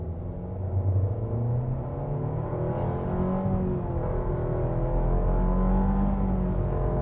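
A 2023 Nissan X-Trail in sport mode accelerating from 0 to 100 km/h, its engine tone rising and sweeping upward through a steady, loud cabin rumble with no speech.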